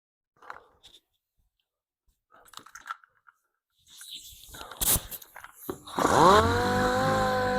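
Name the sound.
orbital sander sanding a car paint chip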